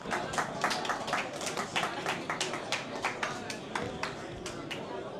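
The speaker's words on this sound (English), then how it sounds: "So can we have a quick round of applause for all our speakers before we begin?" Conference audience applauding speakers at a crypto industry event, a steady patter of many hands clapping at moderate loudness for about five seconds, with no voices over it.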